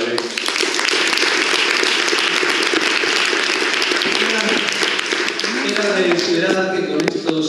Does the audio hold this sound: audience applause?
yes